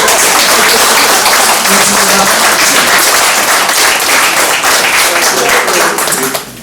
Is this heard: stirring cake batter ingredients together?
no